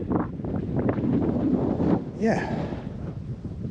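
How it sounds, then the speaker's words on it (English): Wind buffets the microphone on a seawall along the Humber Estuary, a loud rough gusting roar with a voice heard briefly over it. "the wind's much fresher here"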